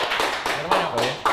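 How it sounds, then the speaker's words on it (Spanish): A few people clap at the start of an interview, giving sparse, close hand claps in an uneven rhythm, with a voice speaking over them. "¡Aplausos!"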